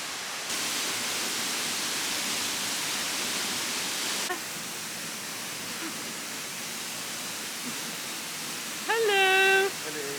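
A waterfall on Lombok, Indonesia, roars as a steady broadband rush that drops slightly in level partway through, with a brief voice near the end.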